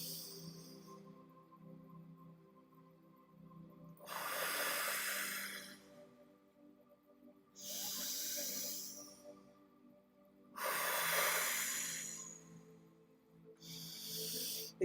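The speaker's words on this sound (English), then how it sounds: "breathing as deeply in as you can for at least a count of 9" Deep, slow breaths drawn in and let out, four long airy swells of several seconds each separated by quiet pauses, close and steady with no talk.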